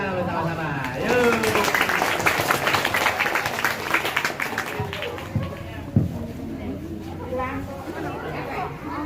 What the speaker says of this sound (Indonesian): Kali kita tepuk tangan bersama-sama.